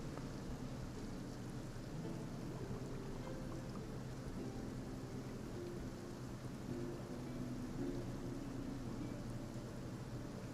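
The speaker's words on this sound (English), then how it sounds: "Oh, it's raining." Rain falling in the video game Genshin Impact, a steady, soft wash of rainfall with low rumbling underneath, continuous and fairly quiet throughout with no talking.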